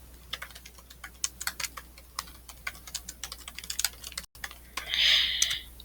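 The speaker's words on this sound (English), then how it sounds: "and I'm going to type my name." Rapid, uneven clatter of typing on a computer keyboard in a Google Docs document, close and fairly quiet, with a short soft hiss near the end.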